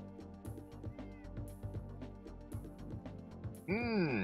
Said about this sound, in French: Encore un chat ici.